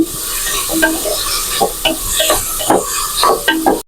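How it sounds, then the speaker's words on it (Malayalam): Three green chillies frying in a pan for an Arabian chicken madhooth, a loud continuous sizzle with repeated stirring scrapes and clinks, close up and with no voices. "ഇതിലേക്ക് തന്നെ മൂന്ന് പച്ചമുളകും ചേർക്കുന്നുണ്ട് ഇത് കുറച്ച് ബ്രൗൺ ആക്കി എടുക്കാം"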